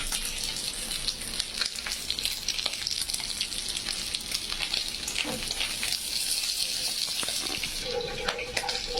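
Fish with potatoes cooking in a pan gives a steady, dense sizzle throughout, with occasional clinks and a brief trickle of water near the end, close and moderately loud, with no talk.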